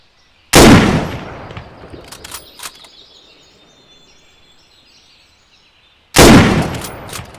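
Two sharp, loud sniper rifle shots in Arma 3 with the IFA3 mod, spaced several seconds apart, each with a booming crack followed by a rolling echo that fades out.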